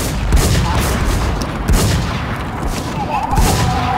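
Rapid gunfire from WarZ, a survival shooter game, cracks out in repeated loud shots, several bursts across the span over a dense, noisy game background with no talk.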